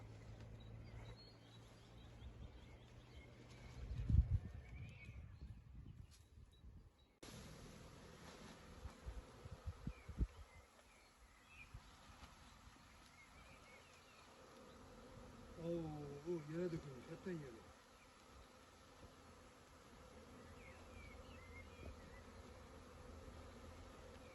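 Honey bees buzzing close by, with scattered knocks and handling noises. The buzzing swells and fades, and a louder swarm drone rises partway through.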